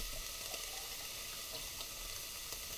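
Water pours steadily from a can into a pan, a continuous bright splashing rush with no break, fairly loud and close.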